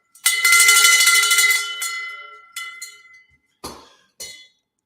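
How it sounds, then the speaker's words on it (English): A bell rung to celebrate a team gives one bright, ringing strike that hangs and slowly fades over about two seconds, followed by a few shorter, sharper dings spaced apart in an otherwise quiet room. "let's ring the bell for my team."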